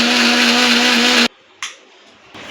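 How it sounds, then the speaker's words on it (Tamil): A mixer grinder whirs loudly and steadily as it grinds ginger, garlic and shallots to a paste, then cuts off abruptly, followed by a couple of short clunks as the jar is handled. "அரைக்கிறதுக்கு வந்து இஞ்சி, பூண்டு, சின்ன வெங்காயம், இது எல்லாமே பிரியாணிக்கும் சிக்கன் 65 சேர்த்து தான் ஃப்ரெண்ட்ஸ் அரைக்க போகிறேன்"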